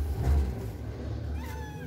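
A cat meows once, close and fairly loud, a short drawn-out call with a low rumble underneath and no talk.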